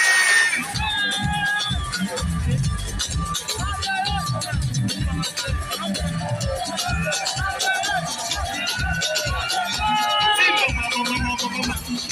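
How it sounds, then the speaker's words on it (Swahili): A live concert crowd in Burundi, with loud sustained cheering and shouting over a rhythmic thumping beat from the music. Voices call out throughout. "Makofi!"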